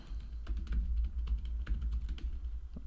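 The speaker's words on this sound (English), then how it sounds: "let me type once again the same username and password" Quick, light clicks of typing on a computer keyboard, close and fairly quiet, tapping steadily for a few seconds over a low hum.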